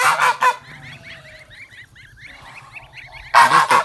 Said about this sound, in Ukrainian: гусак тільки обзивається, гуска трішечки бішеніє